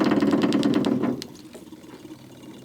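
The engine of a 1979 Camaro barn find, revived after sitting for years, runs with a rapid rhythmic chugging that cuts out after about a second, leaving a faint low idle-like murmur close by.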